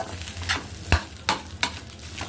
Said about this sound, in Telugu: ఈ రైస్ మంచిగా కలుపుకోవాలి ఉండలేకుండా